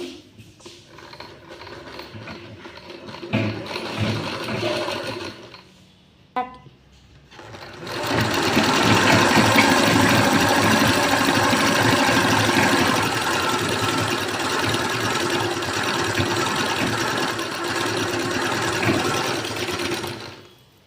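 A sewing machine stitches piping onto cloth, running in short bursts with a pause, then a long steady whirring run at close range before stopping.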